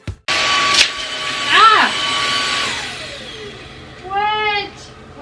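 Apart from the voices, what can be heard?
vacuum cleaner running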